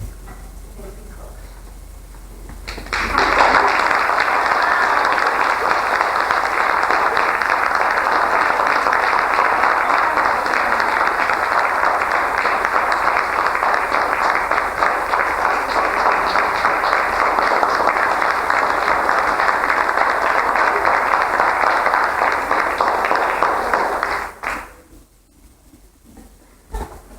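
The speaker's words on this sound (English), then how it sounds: "We applaud you, Casey, for your lively involvement in the A" Audience applause at the Adams County Arts Council Applause Awards ceremony, a steady broadband wash of clapping that rises abruptly, holds evenly for about twenty seconds, then fades out near the end.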